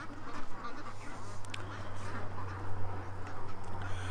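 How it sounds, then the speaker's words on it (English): Ducks quack steadily close by outdoors, a dense run of nasal calls over a low hum, with no talk. "Come on, ducks, let's go inside."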